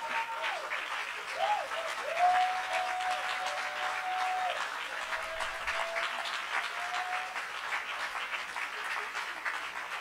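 A church congregation applauds and cheers for the Lord, with dense, steady clapping filling the room throughout and a sustained high shout or whistle-like tone rising above the crowd noise.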